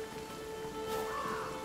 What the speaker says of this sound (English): Oh, there's some heavy rain here.